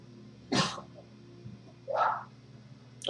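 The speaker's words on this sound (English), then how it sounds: "I think my dog just threw up in the background" In the background indoors, a dog throws up with two separate retching, cough-like heaves about a second and a half apart, heard over a quiet hum.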